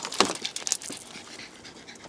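A dog shut in a sweltering hot car pants rapidly and loudly up close, with a quick burst of heavy breaths at the start easing into softer, steady panting.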